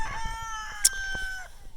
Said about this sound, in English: We got some chickens over there.